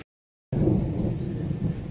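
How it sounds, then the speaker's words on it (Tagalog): Thunder rumbles outdoors in a village in Camarines Sur, a deep, loud, sustained roll that begins abruptly after a brief silence and carries on to the end. "Dinig na dinig nyo ba mga tolits yung dalugdog? Kulog ba?"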